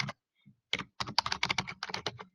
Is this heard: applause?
no